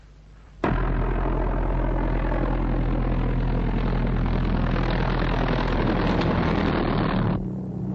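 A squadron of propeller aircraft in flight, heard in a war film as a loud, steady engine drone that starts abruptly, holds throughout and cuts off near the end.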